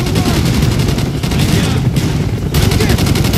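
Rapid gunfire fills a Call of Duty: Black Ops firefight with enemies carrying shotguns, dense overlapping shots and booms roaring loud and continuous, with a brief dip before the barrage surges again.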